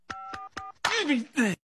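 Telephone keypad tones beep in three quick, evenly spaced presses, followed closely by a loud spoken voice.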